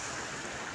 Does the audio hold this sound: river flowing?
yes